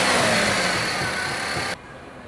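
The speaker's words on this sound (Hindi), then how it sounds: "यहाँ पे मैं एक्सीलरेटर देता हूँ तो ये इंजन इसका स्टडी है, साइलेंट है, कोई मिसफायर नहीं है।" Maruti Suzuki WagonR petrol engine revved with the accelerator, a steady, smooth mid-pitched roar without misfire, held close and loud for nearly two seconds before dropping abruptly to a quieter idle.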